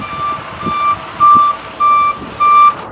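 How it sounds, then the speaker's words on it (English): A water truck backing up gives a loud, steady series of reversing beeps, five evenly spaced electronic tones over low engine rumble outdoors. "you got the water guys on this side, backing up, beep, beep, beep, beep, beep."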